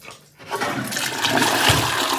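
A hotel toilet at the Kimpton Alton Hotel near Fisherman's Wharf in San Francisco flushes nearby, a loud gushing rush of water that swells and keeps surging to the end.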